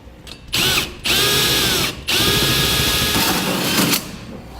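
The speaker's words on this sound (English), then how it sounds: "we'll use this pilot hole for our hole saw to make a 4-inch diameter hole" A power drill with a 4-inch hole saw grinds steadily through the metal bed of a 2015 GMC Sierra 3500 pickup truck in loud bursts, with brief pauses between cuts and a high whining edge to the cutting.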